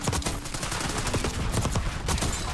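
Jackal PDW submachine gun firing in Black Ops 6, a rapid burst of close, snappy shots over a busy game mix, fairly quiet overall.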